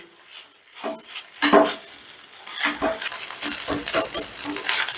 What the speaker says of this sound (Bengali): আমি একদম গুঁড়ো করেই ভেজে নেব